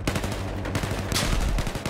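Rapid automatic gunfire in the Battlefield Hardline video game, a dense close burst of repeated shots that rolls on for about two seconds, loud and with no talking.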